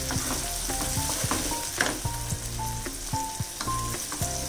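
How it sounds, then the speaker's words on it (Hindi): Tomato, garlic and ginger paste fries in oil for besan sabji, a steady close sizzle with repeated scrapes and clinks of a spoon stirring against the pan. "इस तरीके से इसको भून लेना है।"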